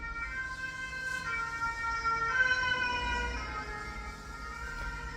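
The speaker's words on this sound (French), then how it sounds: "les sirènes, elles t'ont fait peur" Emergency vehicle sirens wail steadily at moderate distance over a low rumble of road traffic, the tones sliding and overlapping as they pass, with no talking.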